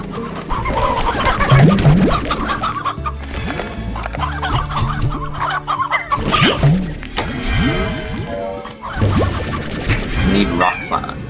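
Chickens cluck and squawk in the video game Slime Rancher, loud, repeated bursts mixed with other game sounds and some talk.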